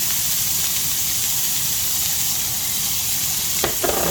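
Mixed carrots, peas and corn poured into butter in a frying pan over low heat hiss in a loud, dense, even sizzle close to the ear, with a couple of light clinks near the end.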